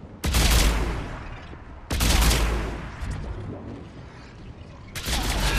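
Weapon fire in a Mass Effect 3 firefight: three heavy, loud bursts of shots with long ringing tails, spaced a couple of seconds apart, with the last one cut short.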